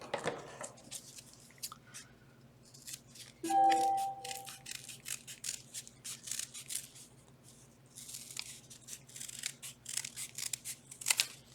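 Several sharp scissor snips slice through a stack of eight layered pieces of quilting fabric or paper at once, crisp crunching cuts in bursts with short pauses, close and fairly quiet over a low steady hum.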